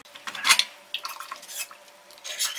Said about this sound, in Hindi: हम प्रेशर कुकर खोलकर चेक करेंगे।